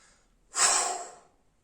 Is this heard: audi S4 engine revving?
no